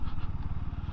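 BSA 650 Scrambler motorcycle engine while riding, a steady low throbbing exhaust pulse running continuously and fairly loud, close up, with no talk over it.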